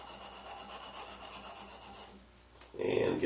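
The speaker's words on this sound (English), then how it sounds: "have to just rub those out by hand by folding the paper and sanding across the grain" Folded sandpaper rubs by hand across the grain of a shellac finish in steady back-and-forth strokes, soft and close, before a louder rustle near the end.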